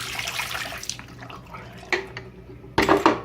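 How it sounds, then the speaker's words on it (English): Water pours out of a film developing tank, a close, splashing gurgle that tapers off, followed by a few sharper splashes and clatters near the end. "pour out the water"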